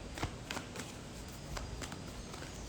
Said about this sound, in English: Let me give it a little shuffle.